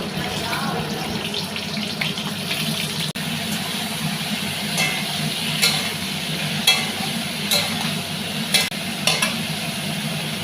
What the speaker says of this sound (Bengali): এবার এটার মধ্যে আগে পেঁপেগুলো দিয়ে দেবো, পেঁপেগুলোকে ভেজে নেবো ভালো করে